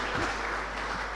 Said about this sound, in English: Please, another round of applause for Chika.